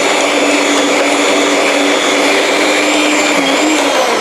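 An electric mixer beats almond chocolate chip cookie dough with a loud, steady motor whine that holds constant throughout, close up and with no talking.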